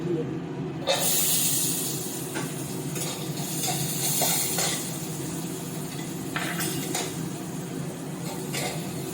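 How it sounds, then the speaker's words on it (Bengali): Cashews and almonds frying lightly in ghee in a pan, giving a steady soft sizzle with a few faint utensil clinks throughout. "ঘি দিয়ে আমি এই যে কেটে রাখা এগুলো ড্রাই ফ্রুটগুলো একটু ভেজে নেব হালকা করে"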